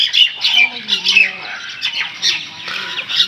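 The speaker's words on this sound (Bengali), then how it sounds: "এই সকালবেলা করে শালিক পাখিরাও ঝগড়া শুরু করে দিয়েছে।" Common myna birds squabble noisily in the morning near a pond, trading loud harsh squawks and chattering calls in quick, overlapping bursts.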